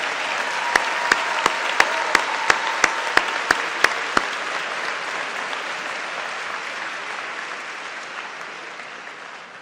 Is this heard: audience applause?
yes